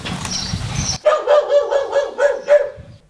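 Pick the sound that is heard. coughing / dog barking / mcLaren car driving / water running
dog barking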